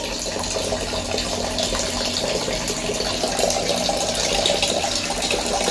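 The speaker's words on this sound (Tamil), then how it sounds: "ஸ்லோவாக தான் தண்ணி வந்துட்டுருக்கு. டேங்க்குள்ளே ஃபில் ஆகிட்டுருக்கு." Steady running water from a tap slowly filling a tank, a continuous soft gush with no pauses, close by and moderately loud.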